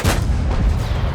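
A tank's main gun fires a gold penetrating round in a video game, a loud booming blast with a heavy low rumble that sustains through the whole short moment.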